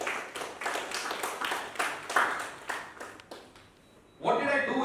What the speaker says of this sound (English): Big round of applause for Shushmita.